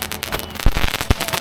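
Fireworks set off outdoors, a run of sharp cracking bursts with two stronger low thumps, close by, with people talking throughout.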